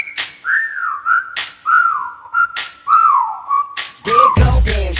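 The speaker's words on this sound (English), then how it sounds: "Okay, time to whistle at her." A person whistles at someone in a series of rising-and-falling wolf-whistle phrases, loud and close, repeated about four times with short gaps, ending in a burst of rougher noise.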